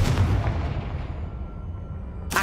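The Confringo fire-blast spell in Hogwarts Legacy lands as a loud, booming explosion with a deep rumbling tail that slowly fades, and a fresh burst cuts in at the very end.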